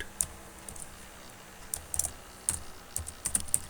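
Typing on a computer keyboard while writing Python code, a series of light, irregular key clicks in small clusters over a quiet background, close to the microphone.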